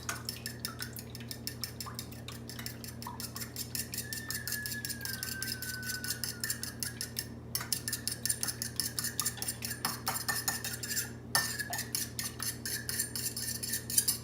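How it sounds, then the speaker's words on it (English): An egg and milk mixture is whisked briskly in a bowl, making a fast, even clatter of metal tapping against the sides that goes on throughout with two short pauses, and nobody speaks. "Gonna whisk this around in my bowl here."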